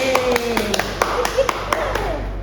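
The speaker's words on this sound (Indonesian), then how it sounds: "Berikan tepuk tangan dulu kepada temannya." Classmates clap for a student after a classroom presentation in an anthropology micro-teaching lesson. A small group gives a handful of sharp, spaced claps, loosely rhythmic over a low sustained tone, with talking alongside.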